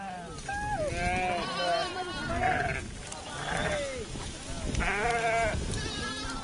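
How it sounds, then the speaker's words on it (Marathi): A flock of sheep being herded in Nashik bleat back and forth, overlapping wavering cries from nearby, with some human voice mixed in beneath. "सध्या मेंढ्या हाकतोय"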